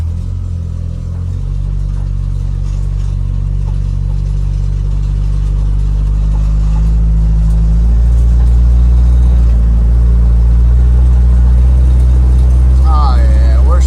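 A car engine with a freshly rebuilt cylinder head runs steadily while the gears are shifted, giving a continuous loud low rumble that swells slightly midway, with brief faint higher squeaks near the end.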